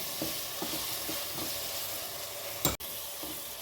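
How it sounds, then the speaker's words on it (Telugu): Tomatoes sizzle and fry in a pan for chicken biryani, making a steady hiss with a few soft stirring scrapes and one sharp clack near the end. There is no talking. "ఒక 1 మినిట్ అలా ఉంచితే ఈ టమాటా మొత్తం ఉడికిపోతుంది."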